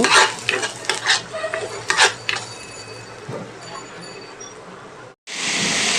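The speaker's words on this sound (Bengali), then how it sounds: "এখন দেখতে পাচ্ছেন এই জায়গায় রয়েছে পেঁয়াজ, অলিভ অয়েল এবং রসুন। এই জায়গায় আমি অল্প হালকা ফ্রাই করে নিব।" Onion and garlic frying lightly in olive oil, a steady close sizzle with scraping stirs and light utensil clinks over the first five seconds, then a brief silence and a loud continuous hiss.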